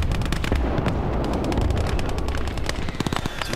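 Gunfire and explosions fill a battle in the WWII strategy game Gates of Hell. Dense, rapid shots and booming blasts overlap in a loud, continuous barrage, with sharper single cracks standing out near the end.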